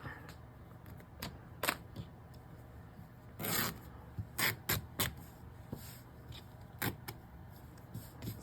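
Fabric being cut with scissors, a scattering of short, faint snips and rasps at irregular intervals, a couple of longer cutting strokes among them, in a quiet room.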